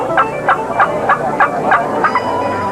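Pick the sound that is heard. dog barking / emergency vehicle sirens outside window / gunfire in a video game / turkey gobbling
turkey gobbling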